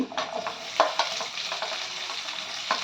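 Garlic and onion sizzle in a hot pan with a continuous close hiss, punctuated by occasional scraping stirs of a spoon against the pan.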